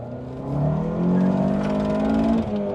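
A Honda CR-V with a swapped Acura TSX engine and six-speed AWD revs up hard into VTEC, a loud, rising engine note held steady for a couple of seconds, close by on a street.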